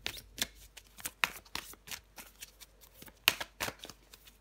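A deck of tarot cards shuffled and cut by hand, producing a series of crisp riffling and slapping bursts at an uneven rhythm, close and clear with no talk.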